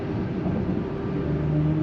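Steady electric drivetrain hum from a 2023 BMW iX 50 under hard acceleration, a smooth continuous tone with faint rising whine and no engine pulses.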